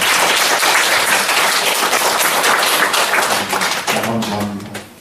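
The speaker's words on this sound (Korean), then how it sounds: "다 같이 박수 한번 해주세요." A youth group at a church service bursts into sustained group applause, a dense, loud wash of many hands clapping that fades out toward the end as voices emerge.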